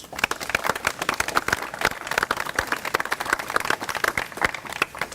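An audience at a Simsbury, Connecticut community gathering gives a hearty round of applause, many hands clapping in a brisk, crackling stream that stays fairly loud and steady, with no talking over it.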